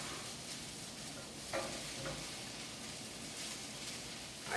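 Mushrooms hit a hot pan with broccoli for a ramen lo mein, a quiet steady sizzle with a few soft stirring scrapes and clinks, close but faint, no talk.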